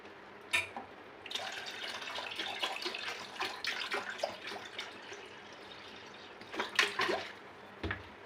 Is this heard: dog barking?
no